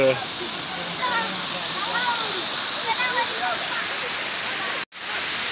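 A continuous roaring rush of falling water at Bhaje waterfall near Lonavala fills the scene, with faint voices of bathers and splashing mixed in, then a brief cut near the end.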